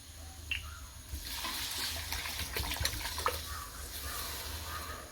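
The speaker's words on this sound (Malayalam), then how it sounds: "ഇനി വിനാഗിരി ഒഴിക്കാം" Vinegar is poured into a pot of sardine pickle, a close, soft splashing trickle that starts after a brief click and runs on unevenly for several seconds.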